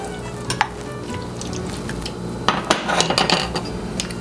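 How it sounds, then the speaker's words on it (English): Roasted peppers go into a pot of tomato and pepper soup heating toward a boil on the stove. A steady hiss and bubbling runs under light clinks and scrapes of a utensil against the pot, busier toward the end, close and fairly loud. "We're going to put our peppers in here."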